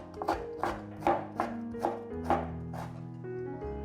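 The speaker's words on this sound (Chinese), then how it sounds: "把牛蒡切成薄片" A knife chops peeled burdock root into thin strips on a cutting board, about eight crisp, evenly spaced cuts ringing out close up over faint background music.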